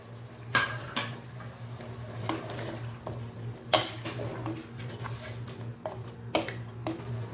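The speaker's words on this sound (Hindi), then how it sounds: "अब हम इसमें टमाटर डालेंगे, हरी मिर्च डालेंगे," Tomatoes and green chillies stirred into tender mutton in a pot, heard as a series of scraping spoon strokes and knocks against the pot over a low steady hum, moderately close with no talk.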